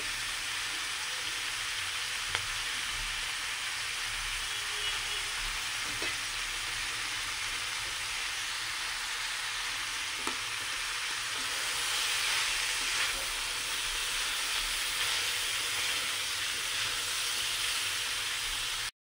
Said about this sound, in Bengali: মশলাগুলো দিয়ে সবজিগুলো আমার ভালো করে ভাজা হয়ে গেছে।